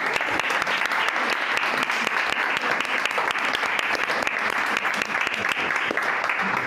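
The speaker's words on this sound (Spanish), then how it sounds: "Un aplauso, ¿no?" A live podcast audience at a poetry day special claps continuously in dense, even applause that holds at full strength throughout, close and loud with no voices over it.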